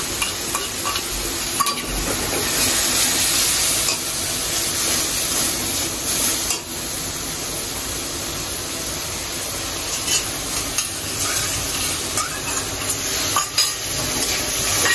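Ginger, garlic, chili and turmeric fry in hot oil with a steady, continuous sizzle, punctuated by stirring scrapes in the pan, close and fairly loud throughout with no talk.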